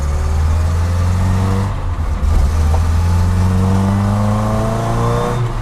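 Japanese mini truck engine running loud and close, revving with strong low harmonics that rise and fall through acceleration, a brief dip mid-run before climbing again.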